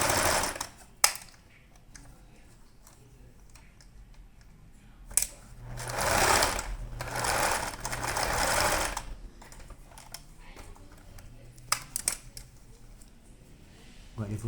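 A domestic sewing machine stitches a seam on a small colorful plush hedgehog pillow, with a short run and a longer steady stitching burst, plus brief backstitch reversals at the start and end. A voice speaks between the runs.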